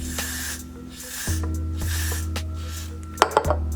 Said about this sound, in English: I'm going to spray it around my edges.